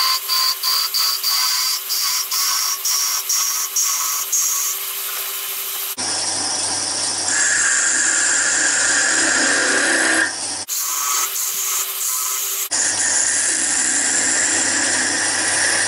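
A wood lathe turns a small snowman nose, with a tool cutting and shaping the spinning piece, giving a loud, continuous scraping and rasping whir that shifts in tone as the cut changes, no voices.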